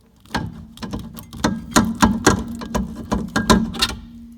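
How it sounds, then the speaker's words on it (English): Metallic clicks and scraping ring out in a quick uneven series as the rusted rear brake disc comes off the hub of a VW Polo 6N2, close by and fairly loud. "And off comes the rear disc."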